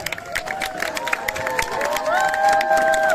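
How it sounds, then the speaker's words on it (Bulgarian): Crowd at a hometown gathering applauds for children, a dense layer of clapping mixed with cheering and excited shouting, with whistle-like tones and voices rising through the sound and growing slightly louder toward the end. "Аплодисменти за най-готините деца."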